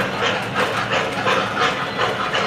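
An MTH O gauge model steam locomotive with its smoke unit running, giving a steady close hiss with soft rhythmic chuffing pulses and faint track clatter throughout, with no talking.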